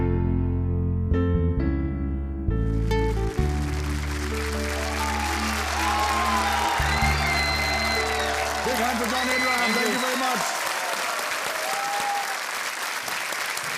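Studio audience on the KBC India quiz show clapping loudly and steadily, a sustained wash of applause that swells in over a fading music sting and continues under a voice.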